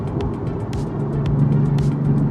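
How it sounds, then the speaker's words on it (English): Steady road rumble and engine hum from inside a moving car, with tire noise and faint ticking, continuous and fairly loud. "So we're just cruising on the highway, enjoying the ride"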